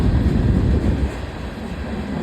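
A Union Pacific freight train rumbles past nearby in a steady, loud low roar that eases slightly partway through, with no voices.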